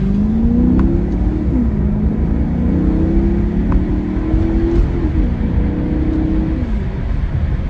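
A 2010 Maserati GranTurismo S 4.7 V8 revs hard and steadily in manual paddle-shift mode, its deep exhaust roar rising and falling in pitch as gears shift, loud and close throughout.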